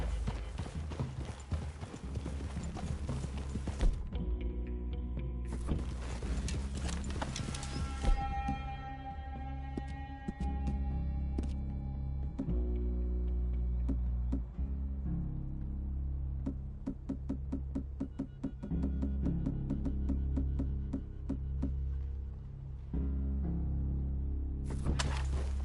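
Horses walk through a clearing in Red Dead Redemption 2, with continuous rhythmic hoof clip-clops over steady background tones for the whole stretch.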